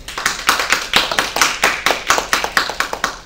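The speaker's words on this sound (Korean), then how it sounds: "큰 박수로 모셔주십시오." Audience applause welcoming a speaker onstage at an academic forum on smart city planning, a steady run of many hands clapping at moderate loudness with no talk over it.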